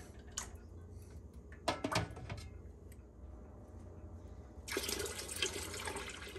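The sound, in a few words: water filling a pot over pickled bean jars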